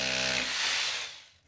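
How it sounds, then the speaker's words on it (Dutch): A power drill whirs loudly with a steady motor tone while drilling pilot holes in a wall, then winds down and fades over about a second. "boor aan weerszijde een hulpgat"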